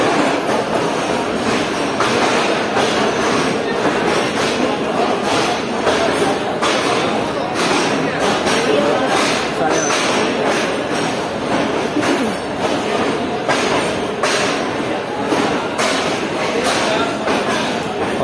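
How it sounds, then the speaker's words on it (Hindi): A train pulls out of Hyderabad Junction railway station, with a loud, continuous rumble of rolling wagons and rhythmic clacking of wheels over the rails. Voices are audible under the noise. "तो ठीक 8:30 बजे ट्रेन निकल रही है हैदराबाद जंक्शन रेलवे स्टेशन से।"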